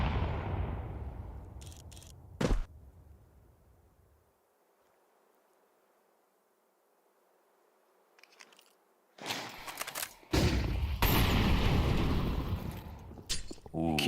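Counter-Strike grenades and gunfire in a BLAST Bounty Malta esports match: a burst of blasts and a sharp crack, a quiet lull, then loud sustained explosions and shooting near the end.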